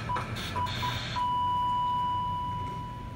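A phone rings in the Lego DC Super Villains video game, short electronic beeps followed by a sustained clear tone, fairly quiet over low game ambience.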